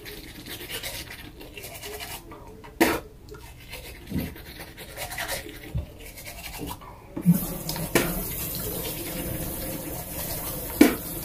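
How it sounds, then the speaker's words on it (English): A toothbrush scrubs teeth with a steady scratchy sound, followed by tap water running as the brush is rinsed under a faucet in a bathroom at night. "I rinse my toothbrush off and I do it with no toothpaste just so I can like rinse my teeth off with nothing"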